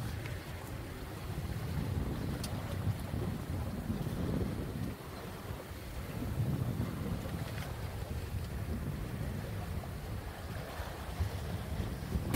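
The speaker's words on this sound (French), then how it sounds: "Regardez-moi ces vagues." Rough sea waves surge and rebound off a harbour breakwater, a deep continuous rumbling wash that swells and ebbs in slow pulses, with wind buffeting the microphone and no voices.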